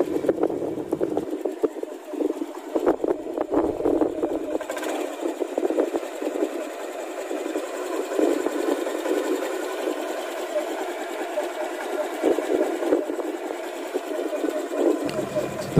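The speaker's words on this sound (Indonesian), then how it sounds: "Oke, kita tes sekali lagi ya untuk suara mesinnya," A Honda Beat scooter engine with a newly replaced crankshaft bearing idles with a steady, even mechanical hum and fine rapid chatter, running continuously and fairly close, with a few faint bumps along the way.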